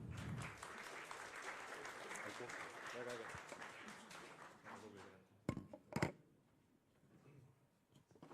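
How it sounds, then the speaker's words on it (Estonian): Audience applause at a university game jam's game presentations, a dense sustained clapping that runs for about five seconds, then thins into a few scattered claps and quieter room noise. "suur aplaus neile"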